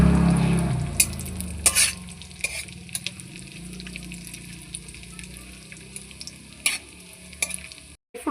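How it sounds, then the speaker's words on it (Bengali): Chopped dry fruits fry in hot ghee while a spoon stirs them, giving a steady close sizzle with sharp scraping clicks against the pan that repeat at irregular intervals, and no voices are heard. "এবার আমি ড্রাই ফ্রুটগুলোকে ভালোভাবে ভেজে নিচ্ছি।"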